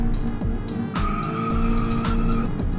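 Tires squeal in long bursts as a bootleg Ibishu Covet spins its wheels on a flat road in BeamNG, with the engine droning beneath, loud and close throughout.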